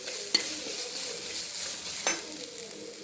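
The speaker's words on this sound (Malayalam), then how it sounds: "ഇട്ടിട്ട് ഒന്നുകൂടെ ഇളക്കി മിക്സാക്കാം" Ash gourd stir-fry with salt, kumbalanga thoran, is stirred in a pan, a soft continuous sizzle broken by two distinct scraping clinks of the spoon.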